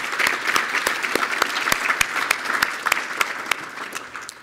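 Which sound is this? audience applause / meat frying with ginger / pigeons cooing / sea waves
audience applause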